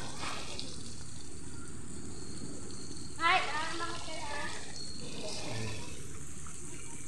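A poolside shower runs at a beach resort, a steady hiss of spraying water throughout with a brief louder splash partway, and people's voices can be heard in the background.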